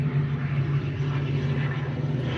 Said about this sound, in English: You see these planes flying through? These are Special Ops planes.